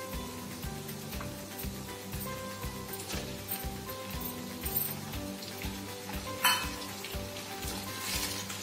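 Tomatoes going into lightly browned onions in a hot pan for paneer butter masala, a soft continuous sizzle and crackle with a few brighter spatters and a clink midway; no voices.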